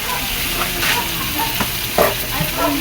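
Eggs frying in a hot pan for a Filipino home-style tiger skin egg dish, giving a steady close sizzle with small crackles and pops, louder bursts near the end, and no talk.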